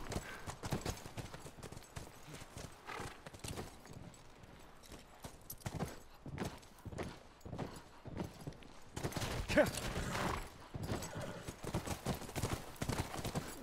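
Horse hooves clip-clop in The Last of Us Remastered, a rhythmic run of fairly soft, close hoof strikes at a steady gait that grows a bit louder toward the end, with a possible brief snort.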